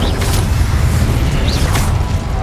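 The Incendio fire spell is cast in a Harry Potter game on PS5 as a dense, loud rush of fiery roar and rumble. It fills the whole moment with a couple of faint whooshing flares on top.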